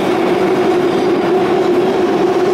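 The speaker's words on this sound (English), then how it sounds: "So we're gonna have to take the train back." A steady, loud rumble of a moving New York subway train, with a constant low drone and broadband rattle throughout.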